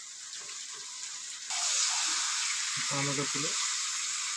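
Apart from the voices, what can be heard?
chicken and potatoes sizzling while being sautéed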